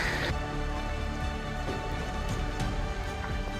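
Rain falls steadily during a hike in the Auvergne volcano country, a soft continuous patter on surfaces close by with no voices over it.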